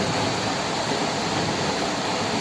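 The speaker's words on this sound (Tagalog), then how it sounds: "Lakas ang agos ang tubig." Strong water current rushing through a dam in a mountain setting, a loud, continuous broadband roar that holds steady throughout with no voices over it.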